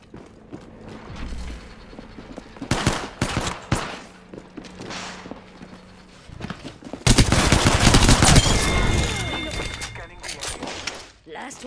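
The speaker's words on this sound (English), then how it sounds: "They're shooting at me." Automatic gunfire in a console match of Apex Legends, with loud bursts of rapid shots, a dense heavy volley in the second half, and game voice lines and talk mixed throughout.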